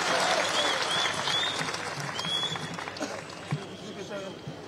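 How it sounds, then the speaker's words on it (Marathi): A crowd applauds loudly and steadily to welcome Raj Thackeray at a political rally, with scattered shouts and voices over the clapping, which eases slightly toward the end. "एकदा जोरदार टाळ्या वाजून आपण सगळ्यांनी स्वागत करूया."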